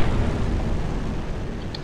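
A mine blast in the World War II game Battlefield 1942 at an air-raid naval base: a loud, broad rumbling boom filling the short stretch, its roar slowly easing off without any talk.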